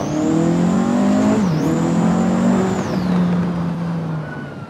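Vauxhall 220 Turbo engine under way, a loud, continuous drone that rises with acceleration, dips briefly as it shifts, then holds a steady pitch before easing off near the end.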